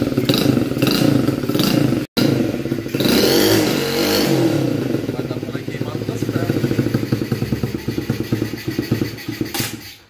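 A mini motorcycle engine with a small two-stroke-style buzz runs loud and close, revving steadily with a brief cut near the start before winding back up, then fading slightly at the end.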